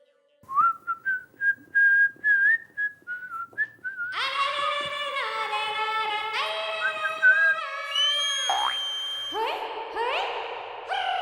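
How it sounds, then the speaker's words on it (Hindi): A person whistles to communicate: a run of short melodic whistles, then longer sustained whistled phrases that rise and fall, loud and close with no talk. "बंद करना या सीटी बजा के बात करने का"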